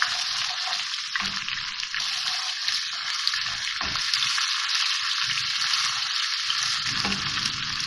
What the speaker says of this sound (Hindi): लहसुन अदरक डाल के मैंने थोड़ा सा भून लिया है इसको